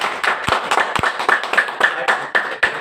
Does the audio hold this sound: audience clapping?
yes